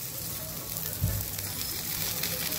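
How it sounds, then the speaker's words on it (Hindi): Semolina-coated mackerel, marinated in Goan green cafreal masala, fries in hot oil on a plain, non-nonstick griddle, giving a steady close sizzle with a brief low thud partway through. "तो अब ये जो गरम तेल में हम इसे फ्राई करने के लिए डालेंगे, नॉनस्टिक तवे का हमने इस्तेमाल नहीं किया है, ये नॉर्मल वाला तवा है"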